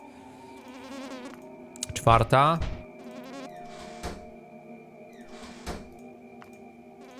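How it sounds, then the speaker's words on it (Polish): A fly in the Bad Dream horror video game buzzes steadily behind a burst of tonal game sounds and a few clicks, with a voice briefly speaking over it. "Ale jest też mucha."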